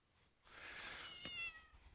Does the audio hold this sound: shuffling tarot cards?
no